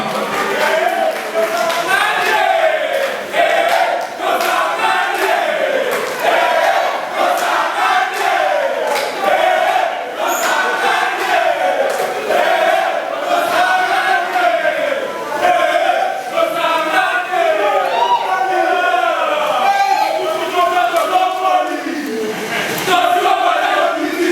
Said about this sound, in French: On applaudit pour maman Marie, l'honorable Marie-Kate Moutinga.